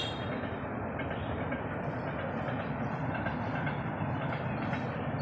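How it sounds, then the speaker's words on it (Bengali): A train runs past at close range, a steady broadband rumble with faint rhythmic clatter that holds at an even level throughout, with no voices over it. "ট্রেন যাচ্ছে"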